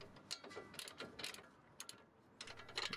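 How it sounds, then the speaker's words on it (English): Ratcheting clicks from a wrench snugging a nut onto the lower strut mounting bolt of a 2008-2014 Nissan Frontier or Xterra, several quick bursts of close metallic clicking separated by brief pauses. "we want to go ahead and tighten this nut up"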